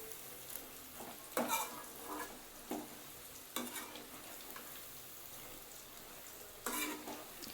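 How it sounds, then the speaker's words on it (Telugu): Prawns frying in a pan for a restaurant-style fry, a quiet steady sizzle with several sharp stirring scrapes and clinks of a utensil against the pan at irregular intervals, no voices. "కొంచెం ఇవి వేగడానికి టైం పడుతుంది"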